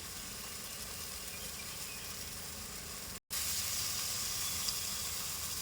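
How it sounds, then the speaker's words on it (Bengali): Spices sizzle and fry in hot oil in a pan for a gourd kofta curry, a loud, even hiss with no voices, cut by a brief dropout midway. "মশলা ভালো করে কষিয়ে নেবো"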